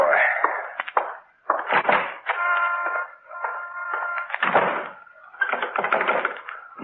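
A house's front door being locked: close rattling clicks and clunks of the latch and fittings come in several bursts over a few seconds.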